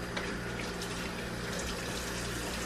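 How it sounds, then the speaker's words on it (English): Water runs steadily from a kitchen tap while hands are washed under it, a soft continuous splashing hiss with no talking. "let me wash my hands"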